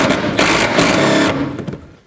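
A power tool whirs loudly and continuously for about a second and a half, then winds down. It is removing a 10mm bolt near the fender liner on the bumper of a 2007-2009 Saturn Aura.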